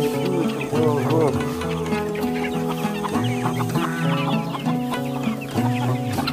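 Chickens cluck close by in repeated, uneven bursts of short, throaty calls, overlapping one another throughout.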